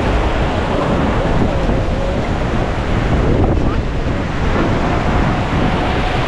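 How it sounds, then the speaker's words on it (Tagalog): Loud, strong ocean waves crash and roll continuously at a Boracay beach, mixed with heavy wind buffeting the microphone. "Napakalakas kasi ng alon."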